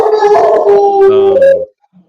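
A dog lets out a single loud, wavering howl lasting over a second, close to the listener, then silence.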